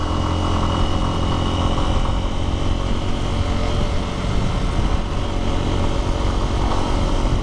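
Lifan motorcycle ridden along a street, its engine droning steadily and loudly up close with heavy wind rumble throughout, no break in the noise.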